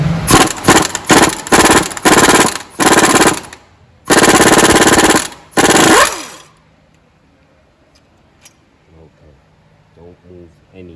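A pneumatic impact wrench works a ball joint bolt loose on a 2007 Jeep Wrangler in a repair shop. It fires in loud, rapid bursts of rattling hammering, several short ones and then two longer runs. Quieter clanks and a voice follow.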